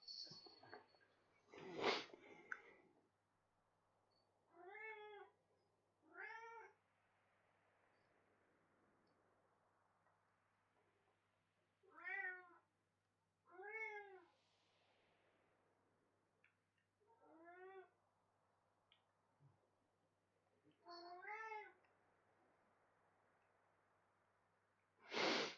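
A female cat gives a series of drawn-out, wavering meows, about eight calls spaced every few seconds, close and clear against a quiet room.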